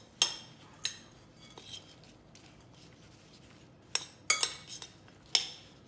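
Mushrooms seasoned with salt and pepper are mixed in a bowl with cutlery, giving several sharp metallic clinks and scrapes in irregular bursts with quiet gaps between.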